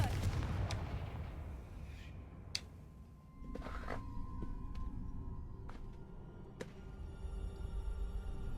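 Confringo explosive spell in Hogwarts Legacy: a low rumbling blast bed with several sharp cracking bursts scattered through it, one loud crack standing out midway, over continuous game ambience.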